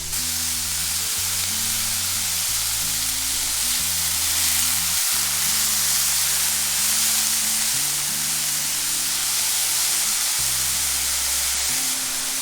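Beef tongue sautéing in a hot pan for a ragù, a loud, steady, dense sizzle of frying meat that continues without a break, with no voices.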